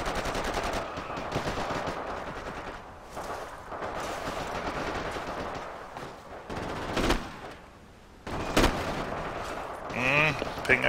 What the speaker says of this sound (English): what I'm holding right now is a MG34, that's a General Purpose Machine Gun